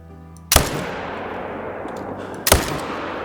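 Two loud rifle shots ring out in the Call of the Wild hunting game, about two seconds apart, each a sharp crack followed by a long, echoing decay over quiet background ambience.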